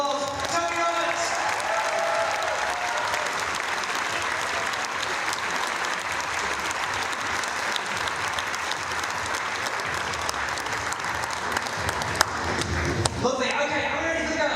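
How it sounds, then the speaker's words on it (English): Sustained crowd applause and cheering at a lead climbing championship final, steady and loud throughout, with an announcer's voice faintly heard near the start and end. "give him a massive round of applause. Tony Roberts"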